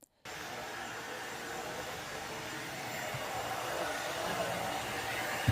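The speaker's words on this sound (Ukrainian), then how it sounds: "Сподіваюся, що цей пилосос служитиме нам довше, ніж попередній." A Bosch vacuum cleaner switches on abruptly and then runs with a steady, loud broadband whir that rises slightly over several seconds, close by and with no talking.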